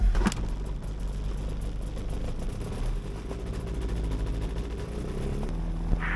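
A small aircraft engine, started with a hand pull, runs steadily at a low, droning idle on a farm airstrip, moderately loud and close, with a brief change in tone near the end.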